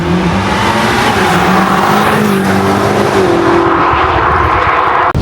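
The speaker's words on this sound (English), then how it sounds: "you don't fully realize just how loud and good the car sounds from the outside" A BMW M5 F90 heard from outside, its engine loud and close with a steady, roaring drone that holds throughout and ends with a brief sharp click.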